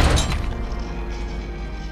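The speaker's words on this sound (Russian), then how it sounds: "Шляпа упала!" A hat falls with a loud, heavy crash and thud right at the start, then a low rumbling fades through the rest of the moment.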